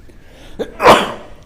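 One loud, close sneeze breaks a quiet room at a Scrabble championship table, preceded by a short sharp intake of breath, with no speech over it.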